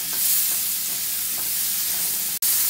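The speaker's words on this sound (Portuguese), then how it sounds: "põe na frigideira, mexe a frigideira bem quente" Chicken pieces fry in a little butter in a very hot pan, giving a loud, steady hiss of sizzling with faint stirring movement, close up and continuous, broken by one sharp click near the end.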